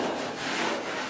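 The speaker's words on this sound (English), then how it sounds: "I'm going to get started by sanding this body filler I put on" Sandpaper rubs back and forth over body filler on a 1985 Chevy K10 truck bed in a steady rasping rhythm, close and fairly loud, with no voices.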